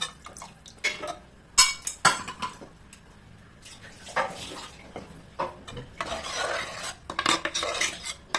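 Tamarind water goes into a pot of ivy gourd (tondekai) sambar amid close kitchen clatter: spoon and vessel knocks, stirring, and a soft wet pour building toward the end.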